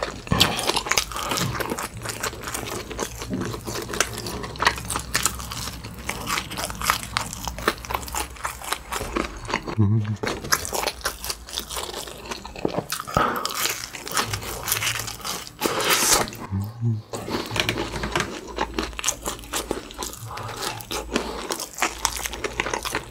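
McDonald's burgers (Honey Cream Cheese Shanghai, Big Mac, McSpicy Shanghai, double cheeseburger) bitten and chewed close to the mic, a dense, continuous run of loud crunching, squishing and crinkling that barely pauses.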